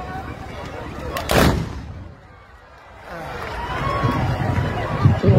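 A musket volley from horse riders of a barda troupe at the Mansouria fantasia festival in Morocco, 2023, fires as one loud, sharp blast in a crowd, with cheering and commentary before and after.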